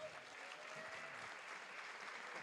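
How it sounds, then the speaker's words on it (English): Faint, distant audience applause at a farm community event, an even, continuous clapping wash with little variation, heard from afar. "Can we just do a round of applause on that?"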